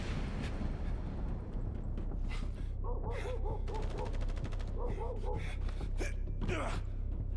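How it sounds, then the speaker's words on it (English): Bursts of rapid gunfire crackle through a noisy, rumbling soundscape in the video game The First Descendant, with repeated rattling volleys and a sharp gasp-like voice near the end. "What's happening? Gunfire."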